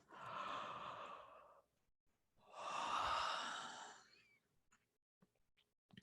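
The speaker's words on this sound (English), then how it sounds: "And take another deep yawn." Two long, deep yawns breathed out slowly during a guided meditation, each a soft, airy exhalation lasting over a second, separated by a brief pause and followed by quiet breathing.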